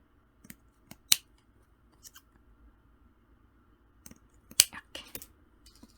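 Scissors cut the corner of a crocheted striped shoulder bag, giving two crisp snips close up with light handling rustles in between, in a quiet room.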